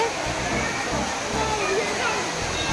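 An indoor waterfall inside a Chinese shopping mall makes a steady, broad rushing of falling water, constant and fairly loud throughout, with faint crowd chatter blended into the wash.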